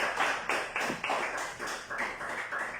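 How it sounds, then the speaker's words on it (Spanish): A church congregation claps steadily for the Lord during a New Year's Eve service, a loud, even rhythm of repeated hand-claps lasting throughout, with no voices over it. "démosle un aplauso al Señor"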